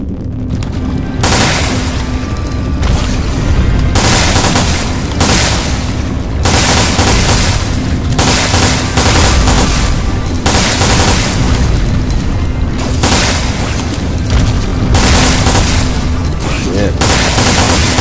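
Gunfire in the video game Resident Evil: Dead Aim, loud repeated booming shots and bursts packed densely throughout, with brief gaps between volleys and game ambience underneath.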